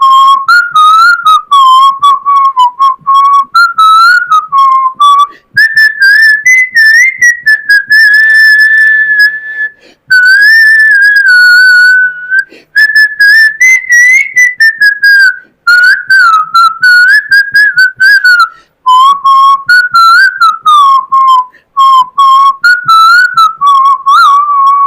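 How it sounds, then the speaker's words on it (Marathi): A person whistles a song solo, a clear, loud melody of bright, gliding phrases that rise and fall with short breaks between lines and no talking. "मी शिट्टीतून गाणं म्हणून दाखवणार."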